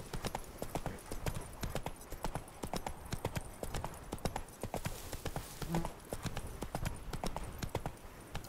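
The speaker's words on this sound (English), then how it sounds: "Out of the way, horse coming through." Horse hooves clip-clop at a steady trot in The Witcher 3: Wild Hunt – Blood and Wine, a dense, continuous rhythm of hoofbeats close up over a constant ambient bed, with a brief faint whinny midway.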